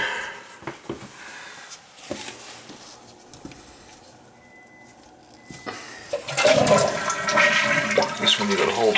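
A household toilet flushes while the handle is held down, the water rushing loudly and building in strength after scattered clunks and handling noises.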